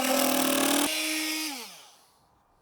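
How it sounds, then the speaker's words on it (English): A multi-tool buzzes through wood trim on a workshop roof, a loud close whine that cuts off, then winds down to silence. "just cut the top off using the multi-tool"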